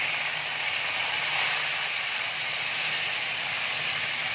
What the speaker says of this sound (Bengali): দেখো গরম হয়ে গেছে, এবার আমি উচ্ছেটা দিয়ে দিচ্ছি।